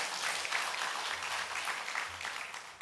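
Congregation clapping in a Korean church during an Easter service, a quiet continuous patter of many hands spread evenly throughout.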